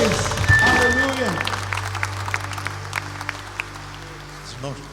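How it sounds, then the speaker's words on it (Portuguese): Church congregation at a Sunday service bursting into applause, dense clapping from many hands that swells at the start and slowly thins out, with a voice calling over it and a few scattered claps fading at the end. "Um aplauso forte ao Rei dos Reis."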